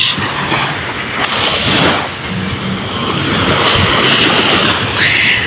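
Ocean waves wash continuously onto a seashore, a broad steady rush with wind buffeting the microphone throughout, with no talk.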